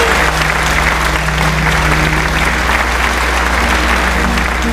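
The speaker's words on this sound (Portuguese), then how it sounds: "Você pode aplaudir a Jesus" A church audience claps steadily throughout, a dense, even wash of applause without pauses.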